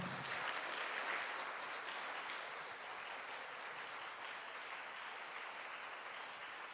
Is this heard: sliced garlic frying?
no